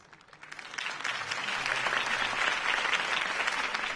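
Crowd applause from a video game audience cheering Harvey Dent's campaign speech, swelling from a quiet start into a dense, sustained clapping roar that holds steady to the end.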